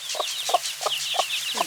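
A backyard flock of hens clucking, a series of short soft clucks repeated at a steady rhythm close by, with other birds chirping faintly in the background and no talk.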